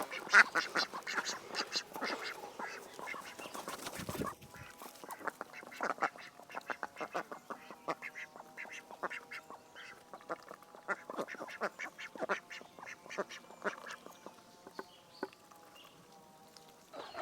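A flock of ducks quacks continuously, many overlapping calls forming a busy, steady chatter close by, with a brief louder burst near the start.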